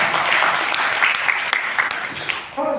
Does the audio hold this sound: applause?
yes